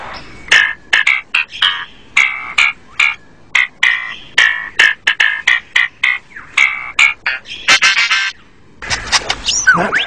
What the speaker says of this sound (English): he sings the most complex song he can manage